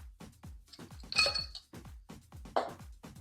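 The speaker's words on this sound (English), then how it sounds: "now we're going to add our ice." Ice cubes dropped into a glass for a cocktail with walnut liqueur, giving a series of close, bright clinks and knocks in irregular bursts, with two louder clatters standing out against an otherwise quiet background.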